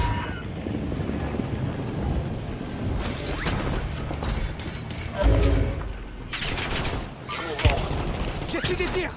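Gunfire in Call of Duty Warzone comes as several bursts of rapid shots and mechanical clatter over a busy game soundscape, with a voice talking at times.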